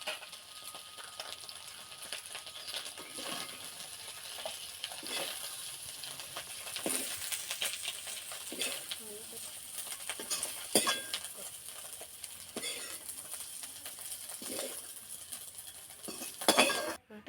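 Beef tripe frying in a pan, a steady hiss and sizzle with repeated metal utensil scrapes and clinks as it is stirred, fairly close.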